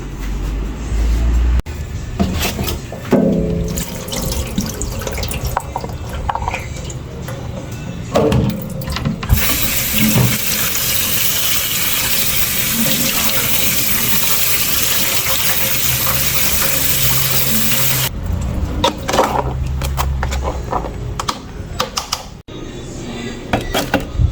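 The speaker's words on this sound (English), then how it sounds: "Gonna give this a little rinse out and strain." Tap water runs hard into a kitchen sink while rice for pelau is rinsed and strained, a loud continuous gush in the middle with clattering, splashing handling before and after.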